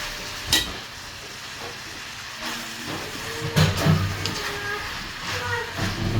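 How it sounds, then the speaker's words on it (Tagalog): Pork with pechay and mustard greens sizzles in a hot pan as it is stirred, giving a steady frying hiss with a few scraping clatters of the utensil, and a voice speaks over it. "Tapos haluin lang natin."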